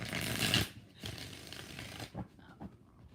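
Tarot cards riffled in a burst of shuffling, a dense papery flutter that is loudest at the start, followed by softer shuffles and a few light handling noises.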